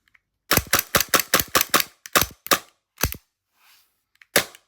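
A Tokyo Marui G19 Gen3 gas blowback airsoft pistol fitted with a TTI Combat Master slide fires a quick string of sharp, snappy cracks, first in rapid succession, then a few spaced single shots up close, with no voices.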